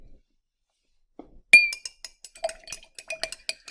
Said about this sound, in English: We give that a stir.